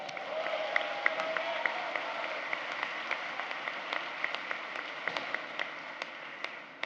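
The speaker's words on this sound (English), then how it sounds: "I just want to give you my round of applause" Faint, distant audience applause at a business school graduation ceremony, a steady wash of scattered clapping with occasional sharper individual claps standing out against a hazy room background.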